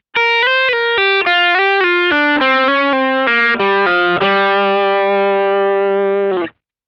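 A slow pentatonic lick on a distorted electric guitar plays as a string of separate, evenly spaced notes, loud and sustained, and ends on a long held note that cuts off abruptly.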